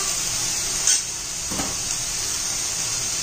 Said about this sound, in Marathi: तेलात चांगलं फ्राय करून घ्यायचे भाजी.